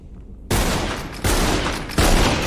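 Gunfire from a video game shooter aimed at a wall, in three loud bursts of rapid shots that start suddenly and carry on back to back with no pauses between them.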